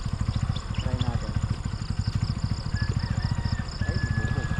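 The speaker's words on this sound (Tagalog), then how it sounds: "patayin ko muna yung motor" Motorcycle engine idling with a steady, rapid low thumping pulse throughout, fairly close and loud, recorded outdoors on a fishing trip while faint voices come and go over it.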